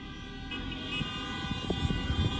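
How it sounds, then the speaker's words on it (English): Car horns toot at a public protest outside a women's prison in Shakopee, Minnesota, several short honks over steady traffic and engine rumble, with no voices. "Moondog News Network here with some horn honking."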